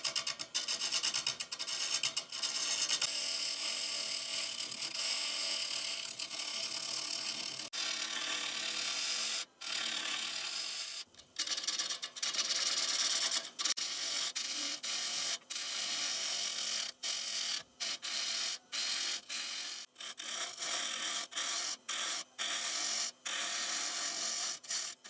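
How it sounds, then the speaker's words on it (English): A 5/8 bowl gouge shaping the outside of a wooden bowl on a lathe gives a steady, close scraping rasp, broken by several brief pauses where the cut lifts off before resuming. "Going to use the 5/8 bowl gouge just to take it nice and round on the outside."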